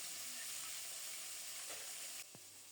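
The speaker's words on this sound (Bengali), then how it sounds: "এপিঠটা একেবারে লাল লাল করে ভাজা হয়ে গেছে, ওপিঠটাও এরকম লাল লাল করে ভাজা হোক" Pieces of rohu fish fry in a pan with a steady broadband sizzle, a soft clink near the end as the hiss drops slightly; no voices.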